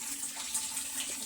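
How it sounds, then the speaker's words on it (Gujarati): Tap water runs steadily into containers being filled at home, a continuous close hiss and gurgle with no pauses. "પીવાનું ભરાઈ ગયું છે ને વાપરવા માટે ભરી દઈએ"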